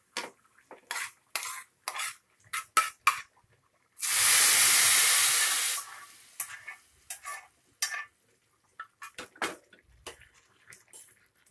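A spoon clinks and scrapes in quick, uneven taps against a pot of sweet pongal, broken midway by a loud, roughly two-second hissing sizzle as fried cashews and raisins go in, then more close clinking, with no talking.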